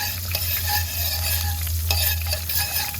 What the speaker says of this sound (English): I'm using a butter knife mixing it up